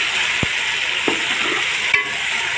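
Tomatoes fry in a pan while a spoon stirs them, a steady close sizzle with a few soft knocks of the utensil against the pan, no talking.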